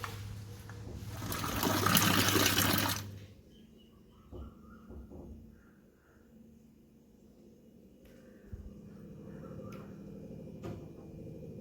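Water gushes loudly into a container for a few seconds, then stops, followed by quieter household clatter, small knocks and faint background sounds.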